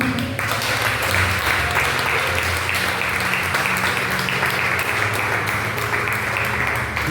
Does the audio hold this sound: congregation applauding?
yes